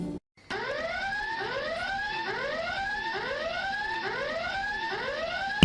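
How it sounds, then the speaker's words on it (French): Game show alarm from The Clever going off: a loud electronic siren of rapidly repeating rising chirps, steady and continuous for several seconds after a brief silent gap at the start. "Pourquoi as-tu déclenché l'alarme de The Clever?"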